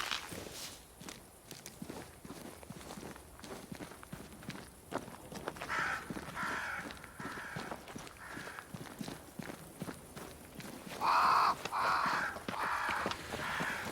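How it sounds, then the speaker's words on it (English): Crows cawing near a great tree in a dark colonial-era fantasy video game, a few harsh calls rising over steady footsteps and ambient wind, moderately loud and close, with no talk. "Crows. They flock to that great tree up there."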